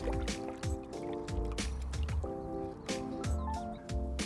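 Molasses being stirred into a five-gallon bucket of water, with steady liquid sloshing and dripping sounds, close and continuous, over a repeating tonal background.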